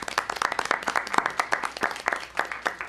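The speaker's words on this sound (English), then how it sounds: "Can we give her a round of applause," An audience at a school district board meeting claps in a dense, steady round of applause, close and fairly loud, with no talk over it.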